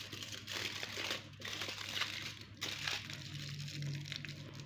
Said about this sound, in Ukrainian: кінчики ніжок я замотаю у фольгу